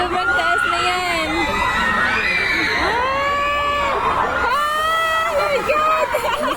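Crowd of riders screaming and shrieking on a swinging pirate ship amusement ride, loud and continuous with rising and falling yells and children's shouts, close by with babble throughout.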